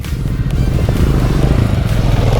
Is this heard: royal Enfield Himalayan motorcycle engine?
yes